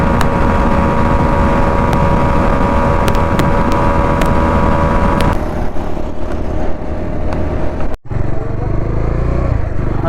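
A Bajaj Pulsar NS400 motorcycle engine hums steadily while riding on an open coastal road, a continuous close drone with wind rush, easing slightly after the midpoint and briefly cutting out near the end.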